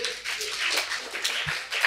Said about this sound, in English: Round of applause for Dwani.